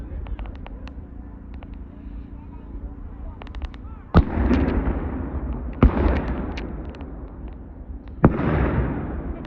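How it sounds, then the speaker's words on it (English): Reenactment artillery cannons boom at the 2024 Battle of Pleasant Hill, three loud, separate blasts a couple of seconds apart, each followed by a rolling rumble, with soft crackling shots between and voices at times. "Oh, I got a cannon fire."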